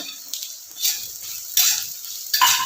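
Garlic fries in hot oil in a pan for beef pickle, with a steady sizzle that swells as a utensil stirs it in several scraping strokes, close and fairly loud.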